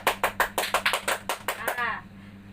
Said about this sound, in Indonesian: Tepuk tangan untuk Siti Erminati